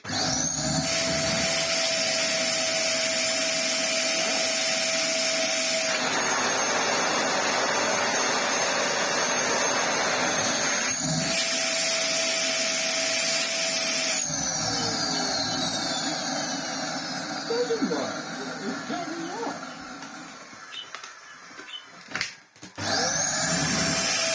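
A Dyson DC07 upright vacuum cleaner runs continuously for about twenty seconds as a loud, steady whine and roar. A steady tone shifts at several points, and the sound breaks up into uneven, sputtering stops near the end.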